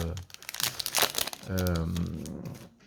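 Close, loud crinkling of a foil Yu-Gi-Oh! booster pack being torn open and crumpled, with a voice speaking over the rustling partway through.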